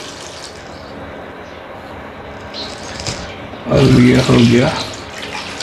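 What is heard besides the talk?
water poured into cooking pot for mutton trotters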